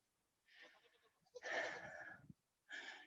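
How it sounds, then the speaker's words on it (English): Goats bleating in short calls among a goat yoga class, three separate bursts with brief pauses between them, fairly close and clear. "I hope you can hear how cute these guys are with their little goat sounds"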